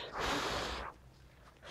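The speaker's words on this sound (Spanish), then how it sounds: "¡Sopla! ¡Sopla!" A child blows a long, breathy puff of air at a picture book at close range, followed by a quieter pause and the start of another breath.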